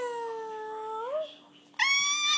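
A person imitates a cat's meow in two drawn-out, tonal meows separated by a short pause, close and fairly quiet.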